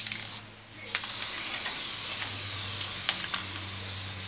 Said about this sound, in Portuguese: aí você vem com a tinta spray